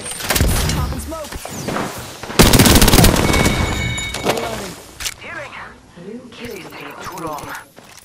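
Gunfire erupts in the video game Apex Legends, with rapid bursts of automatic shots and heavy impacts scattered across the clip, some close and loud, others lighter, mixed with in-game voice callouts.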